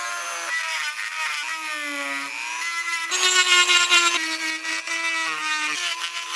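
A Dremel rotary tool cuts into wood while a cane sword is carved, giving a high, steady motor whine whose pitch dips and rises as the bit bites. The sound is continuous and close, with no talking.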